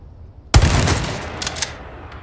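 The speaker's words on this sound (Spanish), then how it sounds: "Incluso puedes escuchar cómo el sonido del disparo se va alejando y desvaneciendo poco a poco." A single gunshot in the video game Resident Evil 4 cracks sharply and then fades away gradually, with a trailing echo tail and faint spatial reflections after the initial loud burst.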